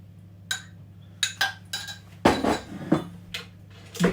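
A utensil stirs flour mix and buttermilk together in a bowl, making a series of close clinks, knocks and scrapes in an uneven rhythm with no voices.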